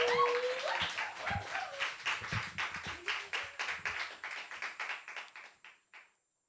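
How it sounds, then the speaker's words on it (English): Audience applause at an open mic poetry event, a close group clapping that thins out into a few scattered claps and fades to silence. "One more round of applause to all our hot features."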